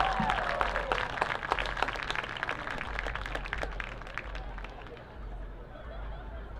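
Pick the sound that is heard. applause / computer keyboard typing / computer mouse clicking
applause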